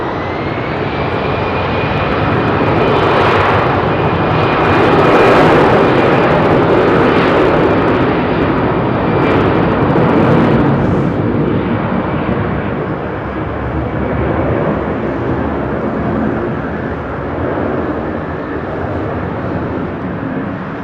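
Ex-KLM Boeing 747 Combi freighter converted from passenger use roaring on departure from Heathrow, a loud sustained jet engine rumble with a thin steady whine that swells and then slowly eases over twenty seconds, no voices present.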